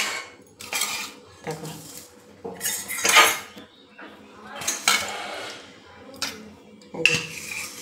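Curry is served into a bowl with a series of distinct clinks and scrapes of spoon and dishes, while someone talks over them.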